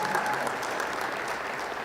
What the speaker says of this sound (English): let's give all of them a big round of applause for all the work that these guys are doing